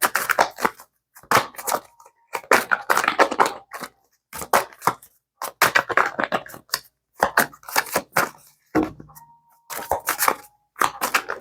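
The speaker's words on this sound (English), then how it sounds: "I feel even chaotic shuffling these cards." Oracle cards from a Cancerian deck being shuffled by hand, repeated riffling bursts of crisp papery flutter separated by short pauses, close and fairly loud for about eleven seconds.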